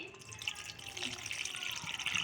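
Water trickles and splashes into a pan of cooking bhindi masala, a soft continuous pour with light dripping and sizzling texture, faint and close, with no talking.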